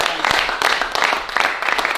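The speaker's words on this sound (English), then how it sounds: "massive round of applause." Applause and clapping from a crowd at the end of a live 2022 team knockout tournament, a steady dense wash of claps under cheering and talk.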